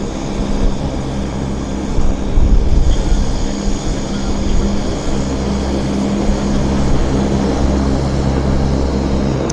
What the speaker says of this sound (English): it's WestJet flight 302, heading to YVR, Regina, Saskatchewan